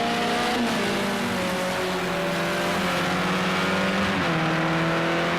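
A race car engine in Project CARS 2 holds a loud, steady, close drone while rounding a hairpin, its pitch stepping down as it brakes, then rising again as it powers out.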